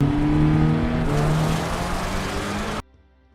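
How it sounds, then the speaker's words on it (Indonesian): A car in a film surges forward under hard acceleration, its engine note climbing loud and close for a few seconds before cutting off abruptly to near silence. "Peter merasa sedang dibuntuti sebuah mobil dan karena itu dia tancap gas."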